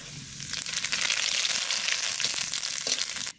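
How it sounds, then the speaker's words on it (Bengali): Cumin seeds and bay leaves sizzle in hot oil for a Bengali elephant-foot yam and hilsa dish, a steady close, bright frying hiss with small crackles that stops abruptly at the end. "তেলের পর দিয়ে দেবো জিরে আর তেজপাতা"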